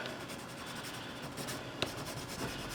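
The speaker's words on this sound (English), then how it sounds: "I just thought it would be fun to do a quick little portrait sketch" Watercolor pencil sketching a quick portrait on paper, a continuous close, dry scratchy rubbing of pencil strokes with one small tap partway through, and no talk.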